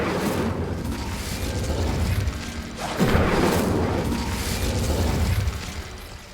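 The Incendio fire spell goes off in Hogwarts Legacy as a loud whooshing roar of flame with a deep boom. It holds a dense rumbling texture and swells again midway.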